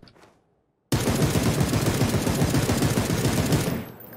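Sustained burst of M762 assault rifle fire in PUBG, a deep, dense rapid-fire roll lasting about three seconds after a short pause, then cutting off with a fading tail.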